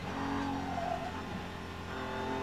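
A GT race car engine drones steadily during the Nürburgring 24 Hours as a BMW slides wide in traffic, giving a continuous, moderately distant engine note with a faint rising pitch and no clear tyre screech.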